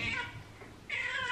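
A cat meows twice close by, soft drawn-out cries separated by a short pause, with no one speaking.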